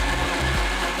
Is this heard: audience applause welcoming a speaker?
no